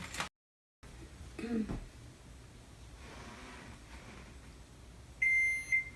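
A single steady electronic microwave timer beep sounds near the end over a faint background hiss, loud and close, with brief rustling earlier.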